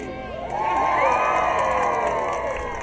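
A big crowd at a children's art and literacy festival ribbon cutting cheers and shouts, swelling into a loud sustained roar with children's high voices mixed in, then easing slightly.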